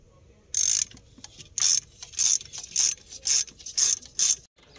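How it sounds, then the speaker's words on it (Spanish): A ratchet wrench loosens a temperature sensor (bulb) on a cold car engine, giving seven loud, evenly spaced bursts of rapid clicking, each about a third of a second long, with no voice over them. "Enseguida le vamos a conectar la matraca y enseguida vamos a aflojar el bulbo de temperatura."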